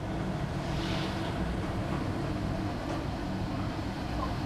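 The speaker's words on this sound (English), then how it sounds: "Let me show you what happens when I kick on a blower. This is what they call the low pressure blower." A pipe organ's low pressure blower runs as a steady, broadband roar with a deep rumbling undertone, unbroken and fairly loud throughout without any clear rise or change.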